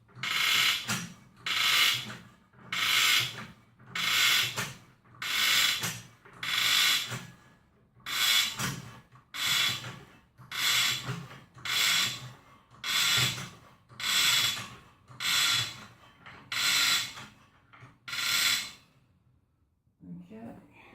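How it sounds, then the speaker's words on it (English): A dry bike lift jack being pumped, each stroke giving a loud rhythmic ratcheting creak, about fourteen strokes at a steady pace, close up, with no talking. "I think the jack needs a bit of oil."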